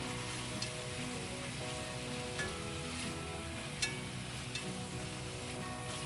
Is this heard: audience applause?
no